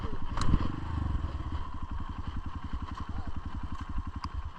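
Trail motorcycle engine on a mountain trail at Mount Bromo, running with a steady rapid pulsing thrum that holds close and loud throughout, with clattering and brief faint voices in the background.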